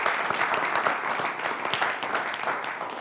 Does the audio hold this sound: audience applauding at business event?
yes